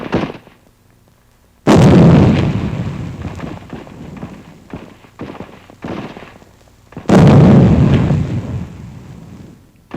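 Rifle fire in 1945 Pacific combat, two loud close booming shots with rumbling decay between them under old newsreel noise and scattered pops.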